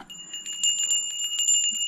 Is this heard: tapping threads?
no